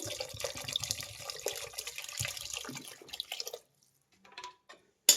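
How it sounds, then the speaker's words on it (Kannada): Water pours from a glass into a pressure cooker of green peas pulao, a splashing stream for about three seconds that stops, followed by a few faint drips and a brief clatter. "ಈಗ ನೀರು ಹಾಕ್ತಾ ಇದ್ದೀನಿ."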